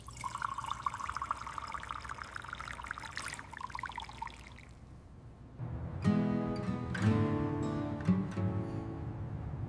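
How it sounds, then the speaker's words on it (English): Water pours and trickles from a working faucet in a city home, a steady splashing stream that grows louder and fuller partway through, with no one speaking. "One faucet works."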